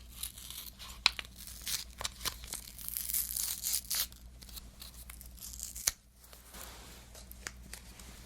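Pink fragrance sample packaging tears open in a series of close, crisp rips and crinkles, with brief sharp snaps scattered through an otherwise quiet, steady rustle.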